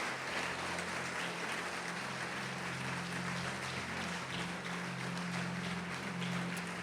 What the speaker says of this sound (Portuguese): Pode aplaudir ao Senhor e glorificar a Deus.